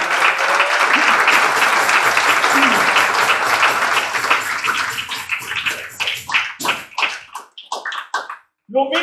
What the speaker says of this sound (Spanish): Denle su ofrenda de palmas a Dios.